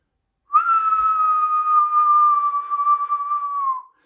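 A single loud, sustained whistle from a person, one steady clear tone held for about three seconds after a quick breath, close and alone.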